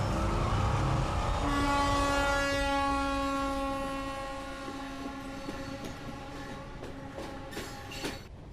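The Muthu Nagar Express, bound for Chennai, sounds a long, steady, multi-toned horn under a constant rumbling wash of rail noise, with faint clanks near the end.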